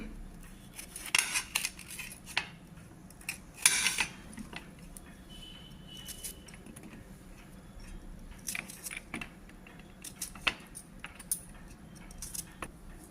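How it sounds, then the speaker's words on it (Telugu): A knife cutting raw tomatoes into small pieces, heard as scattered close clicks and taps against a board in irregular bursts, fairly quiet, with no talking. "ఈ విధంగా టమాటాలన్నీ ముక్కలు కట్ చేసేసాను"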